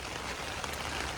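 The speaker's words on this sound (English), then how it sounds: "Can't do much about the rain," Rain falling on Islay, Scotland, heard as a brief, steady wash of even hiss with no voices.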